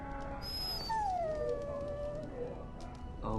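A dog in Dragon Age: Origins lets out a long, falling whine alone, clear and fairly close, with a brief high squeak before it and background game ambience.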